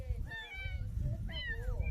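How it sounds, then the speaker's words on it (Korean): A cat meows twice, clear rising-and-falling cries a moment apart, over a low rumbling background. "고양이 소리도 같고"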